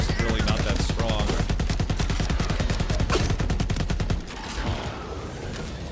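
Rapid automatic gunfire from a Borderlands 4 shooter game, a dense, loud, evenly spaced burst of shots lasting about four seconds before giving way to quieter rumbling game noise.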